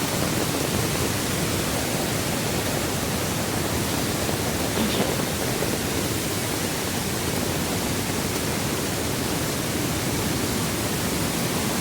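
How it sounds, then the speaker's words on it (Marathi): Strong floodwater surging through a Konkan river in full flood, a loud, steady broadband roar of rushing water that fills the whole clip without pause or letup. "हा बघा इकडे पाणी कसलं येतं आहे जोरदार पाणी आहे"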